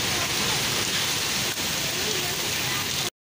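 Heavy rain mixed with hail falls in a Pakistani village as a dense, constant, close hiss of drops pelting surfaces, then cuts off abruptly.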